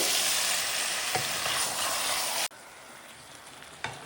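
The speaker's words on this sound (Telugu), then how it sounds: "ఆయిల్ పైకి చేయలే వరకు ఇది వేయించుకుంటాం. లో ఫ్లేమ్లో పెట్టుకొని వేయించుకోవాలి." Chicken pieces fry and are stirred in oil over a low flame for Uttarandhra-style kodi palav, giving a steady close sizzle with occasional scraping stirs and a brief clunk.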